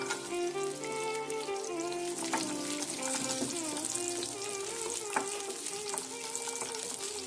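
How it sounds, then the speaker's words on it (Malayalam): Cashews and raisins fry in ghee for an Onam aval payasam, a continuous close bubbling sizzle with scattered light spoon clinks and tonal hum in the background, no voices. "1 സ്പൂൺ നെയ്യിനകത്തോട്ട് ഒഴിച്ചു കൊടുക്കുക. അപ്പം നമുക്ക് ഇതിനകത്തോട്ട് ഇനി അണ്ടിപ്പരിപ്പ് മുന്തിരിങ്ങ ഫ്രൈ ചെയ്യാനിടാം."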